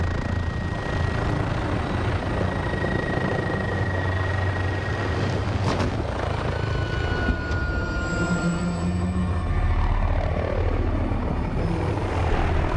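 A helicopter in a Call of Duty Modern Warfare online multiplayer match gives a loud, continuous rotor drone with a whining engine tone that shifts slowly over time, with a few sharp bursts and no talk.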